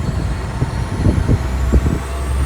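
A tuned truck engine accelerates and pulls hard, a steady low rumble that rises and swells with several surges over a couple of seconds, close and loud, with no voices.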